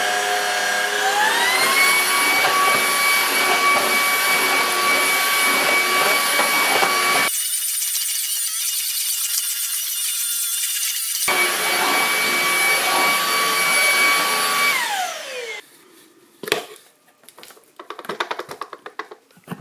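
Ultenic U20 cordless stick vacuum cleaner running on short-pile carpet, a loud steady whine with rising tonal pitch, a brief drop in power midway, then winding down into clattering handling noises at the end.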